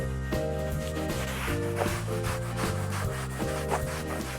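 Nano Scrub Brush working cleaner over a leather car seat, a repeated rhythmic rubbing and scrubbing close to the mic, strokes steady and alone.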